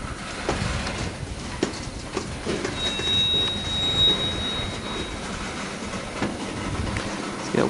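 A long Norfolk Southern manifest freight train rolls past with a steady, loud rumble and clatter of wagons, while a thin high wheel squeal rises briefly in the middle.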